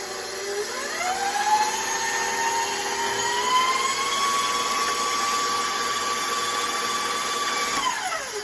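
An electric mixer runs steadily through no-bake cheesecake filling, a close whining motor tone that ramps up in pitch, holds for several seconds, then winds down at the end, with no talking.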